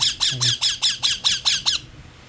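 A pet parakeet lets out a rapid series of eight sharp, loud squawks in an even rhythm, close by, then falls quiet.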